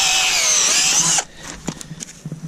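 Cordless power drill boring a hole in the soil for planting daffodil bulbs, a loud high whine lasting about a second, then stopping, followed by soft scraping and shuffling.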